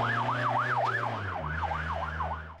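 Police car sirens wail in news report footage from May 2002 in Múr, a steady up-and-down cycle repeating about every third of a second, moderately loud over a low engine hum and slowly fading toward the end.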